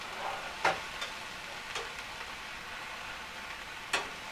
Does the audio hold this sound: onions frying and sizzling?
yes